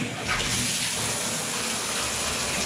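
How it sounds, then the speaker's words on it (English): Water gushes steadily from a bathtub spout with a faulty shower diverter, a constant close hiss and splash with no pause, alone. "I'll just show you the shower diverter not working well."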